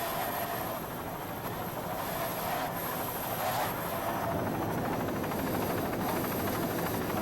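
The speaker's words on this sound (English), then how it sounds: "these boats are doing very well in the rough seas right here" Racing powerboats pound through rough seas at the Key West offshore race, a continuous loud engine roar mixed with wind and water rush, steady throughout with no talk.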